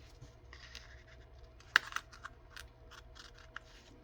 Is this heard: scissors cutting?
yes